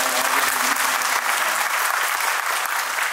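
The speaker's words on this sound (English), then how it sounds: "please give a clap to the" At an election campaign rally in Andhra Pradesh, a large crowd claps loudly and densely in a continuous, even wash of applause for about three seconds.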